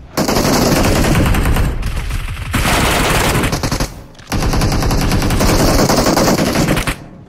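Loud automatic gunfire from a PUBG Mobile match comes in three long sustained bursts separated by short pauses, close and dominant throughout.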